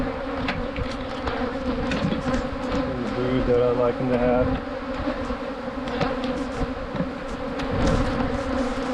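Honey bees hum in an open hive, a dense continuous drone that stays loud throughout while a person talks over it.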